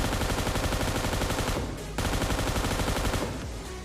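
Sustained automatic gunfire in the battle royale game PUBG Mobile during a squad fight, a loud, continuous rattling stream of shots that briefly pauses, resumes, then tapers off near the end.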